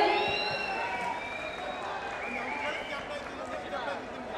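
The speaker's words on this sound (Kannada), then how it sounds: "ಇಲ್ಲಿ ಒಂದ್ಸರಿ ಜೋರಾದ ಜೋರಾದ ಜೋರಾದ ಚಪ್ಪಾಳೆ ಬರಲಿ" An audience at a stage birthday celebration claps steadily, a dense wash of applause that begins loud and settles slightly, with speech-like voices mixed in.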